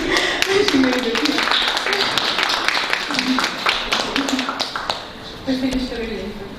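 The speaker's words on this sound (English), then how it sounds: "we can give a round of applause" Applause and scattered clapping at a poetry book event greet a poet's arrival, with lively taps and claps running under people speaking nearby.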